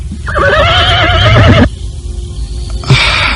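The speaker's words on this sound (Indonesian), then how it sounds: "Aku akan segera melarikan kuda ini." A horse neighs loudly and close, a long wavering whinny followed by a second shorter call near the end, with no talk over it.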